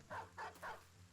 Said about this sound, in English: Dog!